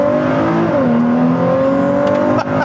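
Sports car engine in sport mode, revved hard at full throttle from inside the cabin, a loud continuous tone climbing through the gears with a quick shift dip near the end and no talking.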